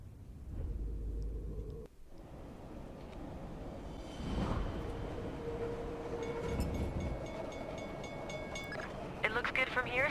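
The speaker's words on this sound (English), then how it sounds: "we're going to get on the back of the train" A moving train in the stealth game Splinter Cell: Double Agent, a steady rumbling drone of rolling rail cars with a brief dropout, metallic clatter and ringing tones building near the end, with speech heard over it.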